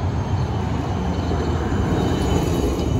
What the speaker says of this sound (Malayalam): അപ്പോൾ ഇത് ട്രാം വരുന്നുണ്ട്